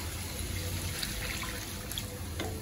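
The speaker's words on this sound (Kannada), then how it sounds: "ಇವಾಗ 2 ಜಗ್ಗು ನೀರು ಹಾಕ್ತಾ ಇದ್ದೀನಿ." Water poured from jugs into a biryani pot on the stove, a faint, steady trickling splash that runs throughout with no voices.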